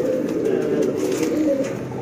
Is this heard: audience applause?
no